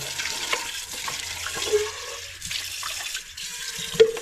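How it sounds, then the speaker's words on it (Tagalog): Water runs steadily from a pressure-tank tap into a container in a home kitchen, a soft continuous hiss and splash with small clinks, no talk. "lalagyan lang po natin ng tubig itong ginagamit po namin"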